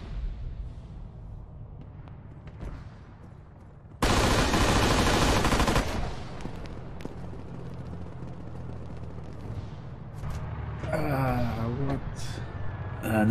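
Arma 3 gunfire in a King of the Hill match: a loud, dense burst of rapid shots hits hard for about two seconds after a quieter stretch, followed by scattered lighter reports and rumbling battlefield ambience.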